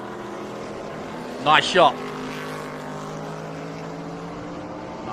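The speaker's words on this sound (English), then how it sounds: "that beautiful white and red Chevrolet Camaro, leading them up the hill" A white and red Chevrolet Camaro Trans Am race car climbing the hill at WeatherTech Raceway Laguna Seca, its engine a faint, steady distant drone heard under brief commentary.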